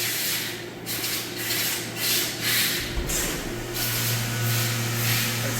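A 2021 Doosan DNM 5700L CNC machining center with a 4th axis runs its spindle at 7,000 RPM. It gives off a steady, fairly loud machine drone with a constant hum and broadband hiss, and no voices.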